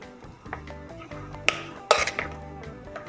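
Utensils clink and scrape against a bowl as marinated chicken is stirred, with a few sharper clatters of dishes in between.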